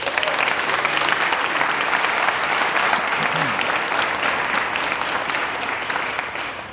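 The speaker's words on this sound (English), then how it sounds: "let's give them a big round of applause" An audience at a 2024 event speech claps in steady, dense applause that stays loud for several seconds and then begins to fade at the end.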